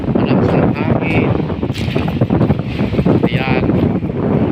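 Strong wind roars across the microphone at a beach, loud and continuous, with a person talking over it.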